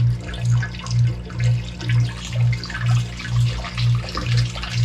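Filtered water from a reverse-osmosis filter flush running into a drain through a one-inch pipe, a steady rushing and trickling flow with a regular low pulsing throb repeating about twice per second.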